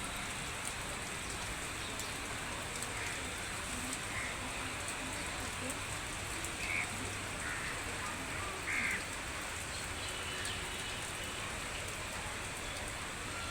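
Heavy rain pours in Chattogram, heard from a balcony as a dense, steady hiss of drops with occasional faint splats, continuous and fairly soft.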